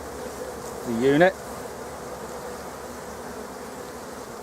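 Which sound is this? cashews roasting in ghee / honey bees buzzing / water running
honey bees buzzing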